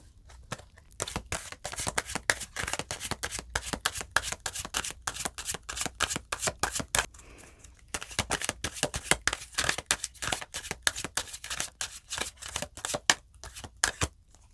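Oracle cards are shuffled close up in rapid bursts of crisp riffling snaps, with a short pause in the middle before the shuffling resumes.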